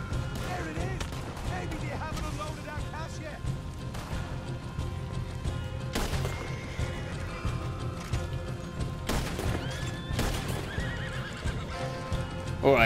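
Horses in Red Dead Redemption 2 neigh and whinny repeatedly, with clip-clopping hooves and scattered crashes over a steady game background, fairly close and loud.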